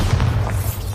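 A Bombarda spell in the Hogwarts Legacy video game bursts as one short, heavy, low boom that lasts about a second, with no talking.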